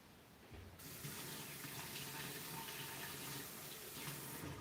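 Monster Energy drink poured in a steady, continuous splashing gush that starts abruptly and runs loud and close to the end, with no talk.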